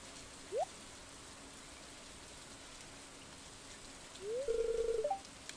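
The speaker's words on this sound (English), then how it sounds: "watching the curtains of rain whisper above the silent lake" Soft, steady rain hiss falls over a lake in the video game Stardew Valley, quiet and continuous, with a couple of brief rising tonal chimes standing out above it.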